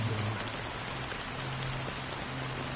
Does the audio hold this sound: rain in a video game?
yes